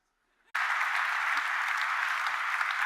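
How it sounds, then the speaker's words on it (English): An audience at a talk suddenly bursts into loud, sustained applause and cheering that continues steadily to the end. "I don't know why you're cheering."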